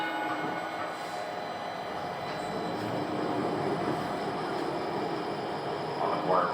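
A Little Rock Metro Blue Line streetcar rolls along from inside the cab, giving a steady low rumble and hum of motor and wheels on rail, with faint squeal near the end of the run.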